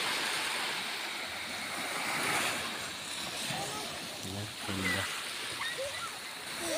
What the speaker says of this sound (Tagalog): Dito lang may alon, guys.